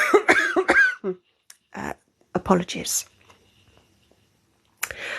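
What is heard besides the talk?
cough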